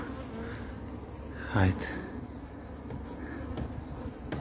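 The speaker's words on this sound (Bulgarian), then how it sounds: "Една пчела веднага дойде да я обследва." Honeybees buzz around a top-bar hive in May near the Iskar reservoir, a steady close drone with a louder insect passing by partway through; a voice speaks a single short word.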